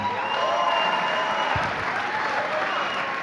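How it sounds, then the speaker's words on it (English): Crowd applauding at a boxing fight night after the bout, a sustained, even wash of clapping and cheering from a large audience, loud and continuous throughout. "une très bonne main d'applaudissements pour Morgan Legal."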